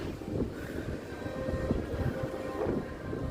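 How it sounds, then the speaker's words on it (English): Steady, low rumbling wind on a cruise ship deck at night buffets the microphone throughout, with a faint hum underneath and no voices. "It's a little windy up here."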